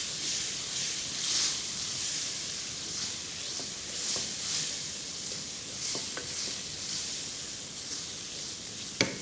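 Dry spices frying for mutton keema, giving a steady sizzling hiss with occasional stirring scrapes and small pops, close and continuous.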